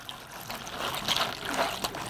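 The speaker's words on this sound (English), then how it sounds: "you get water and fill it to that second line" Water is poured into the reservoir of a Kodiak cold therapy ice machine used for knee care, making a soft, quiet trickle and gurgle for a couple of seconds.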